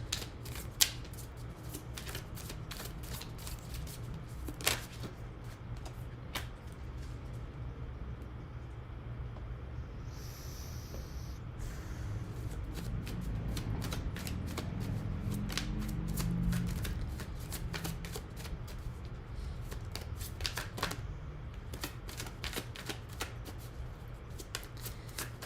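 A deck of oracle cards is shuffled close up in a quiet room, giving repeated crisp riffling and flicking bursts spread across the stretch, with no talk.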